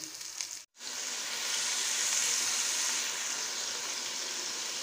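Onions sizzle and fry steadily in a hot pan while cooking a prawn and potato curry, a continuous crackling hiss with a brief pause near the start.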